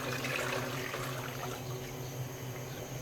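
Water pours into a kadhi mixture in a cooking pot, a steady close splashing rush that continues evenly throughout.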